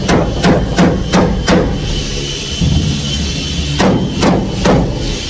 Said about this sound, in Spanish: Si le das con el martillo directo.